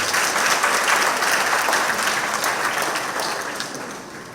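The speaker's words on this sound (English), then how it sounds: "Could we give the Secretary another round of applause?" An audience at a community centre meeting applauds, dense steady clapping that holds loud and then begins to thin toward the end.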